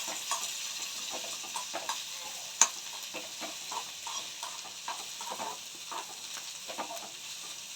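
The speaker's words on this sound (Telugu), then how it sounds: "కొంచెం బ్రౌన్ కలర్ వచ్చే వరకు ఫ్రై అవ్వనివ్వాలి." Onions fry in oil for poori chutney, a soft sizzle broken by repeated light scrapes and taps of a stirring spoon, quiet and close, with no talking.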